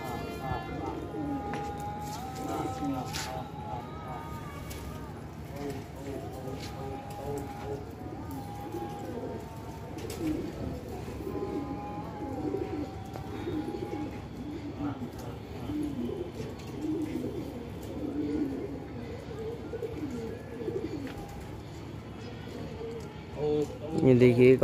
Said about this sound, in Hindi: ये देखिए कबूतर बैठा है ऊपर।